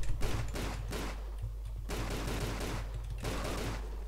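Gunfire in Tomb Raider: The Angel of Darkness: dense automatic bursts come in several long clusters over a constant low hum and sound loud and continuous, with no talking.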